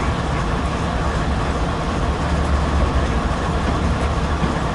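A train rolls along Marias Pass in Train Simulator 2013, giving a steady, loud rumbling roar that holds constant throughout without pause.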